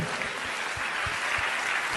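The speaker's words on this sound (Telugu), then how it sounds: "గట్టిగా చప్పట్లు కొట్టి దేవుని మహిమపరచండి" A church congregation applauds loudly and continuously, a dense wash of many clapping hands that fills the room.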